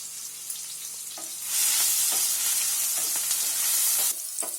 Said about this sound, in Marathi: अद्रक टाकते, थोडी लसूण टाकते आणि कांदा थोडासा घेतलाय तो टाकते.